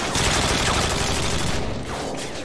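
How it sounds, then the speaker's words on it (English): Rapid, dense gunfire from the video game Modern Warfare 2, loud sustained bursts of automatic shots filling the whole moment, easing slightly toward the end; no talking. "I'm gonna fire bullets for your massive carcass."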